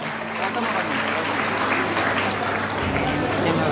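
Steady applause from the audience at an Agrasen Jayanti special assembly in Biratnagar, honouring the youth forum team, with dense continuous clapping and faint background murmur.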